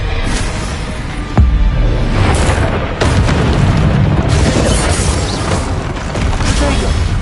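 Hogwarts Legacy combat, with Confringo fire-spell blasts landing as loud, booming explosions over a dense, continuous battle din; sharp impacts stand out near 1.4 and 3 seconds.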